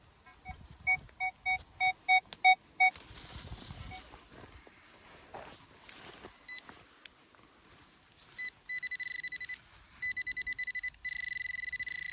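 Metal detector sounding over a buried coin while digging outdoors: a run of short, regular electronic beeps, then repeated pulsed tones later, close and moderately loud over rustling and handling noise.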